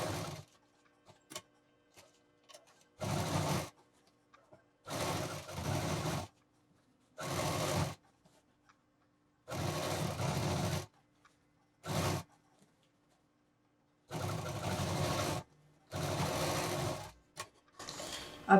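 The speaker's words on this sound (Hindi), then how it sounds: "फिर से एक दाब मशीन चलाते हुए और इस बेल्ट को यहाँ पर 3-4 मशीन से लॉक करते हुए" Industrial sewing machine stitching a belt onto a bag, running in repeated short bursts of whirring mechanical stitching separated by quiet pauses, fairly close.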